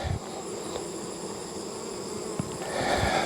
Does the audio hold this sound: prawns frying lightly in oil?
no